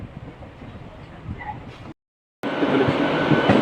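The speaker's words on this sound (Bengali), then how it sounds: "ট্রেন এখন ক্রস করছে টিকিয়াপাড়া, আর 3 কিলোমিটার।" Duronto Express train rolling through the Howrah train yard, a steady rumbling rail roar that cuts out briefly midway and returns louder and closer, with faint voices underneath.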